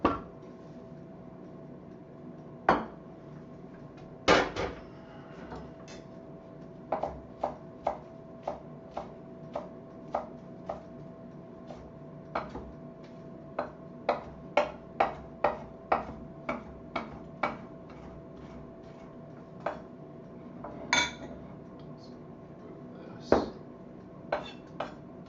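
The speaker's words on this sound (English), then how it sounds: "now let's chop the cilantro up." A knife chops cilantro on a cutting board, sharp taps spaced irregularly, sometimes in quick runs, fairly close and fairly quiet over a faint steady kitchen hum.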